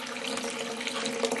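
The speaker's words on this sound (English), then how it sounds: "We fill up the tub with water." A bathtub fills from a running tap, a steady close splashing rush of water pouring without pause and with no one speaking.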